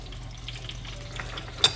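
Tonga toast frying in boiling oil, a faint steady crackling sizzle with a brief sharp clink near the end.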